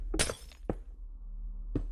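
Glass breaking in a FNAF Minecraft modpack video game: a sharp shattering crash, then a second brief clink and a later glassy hit, close and distinct over a low steady hum.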